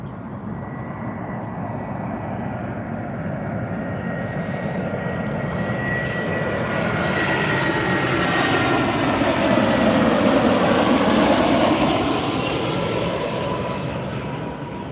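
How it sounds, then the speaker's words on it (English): An Allegiant Air Airbus A320 arriving at Las Vegas airport roars past as a continuous broad jet rumble that swells toward the middle and slowly fades, heard from a distance with no talking. "Next arrival is Allegiant Air Flight 1628 coming in from Kalispell. This is an Airbus 320."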